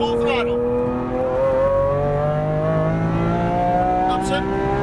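Lamborghini Aventador engine at full throttle, a loud, steady rising drone with strong harmonics climbing in pitch through the revs, heard continuously from the cockpit while a voice talks over it.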